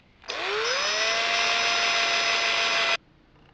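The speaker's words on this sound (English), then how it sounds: "we'll grind all this rust off as well" A grinder runs steadily for under three seconds, grinding rust off a vintage Tonka toy truck; a loud continuous whine with a rising pitch at start-up, then stopping abruptly.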